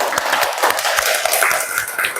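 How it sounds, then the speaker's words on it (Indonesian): A group claps hands in applause, a dense, fairly loud patter of many overlapping claps with a quick, steady rhythm that continues throughout. "Kita tepuk tangan untuk semuanya."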